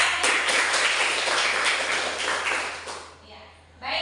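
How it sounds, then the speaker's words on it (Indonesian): A classroom of students gives a round of applause, a steady patter of hand claps filling the room for about three seconds before it fades out, followed by a brief pause and a fresh burst of noise. "Tepuk tangan buat kalian"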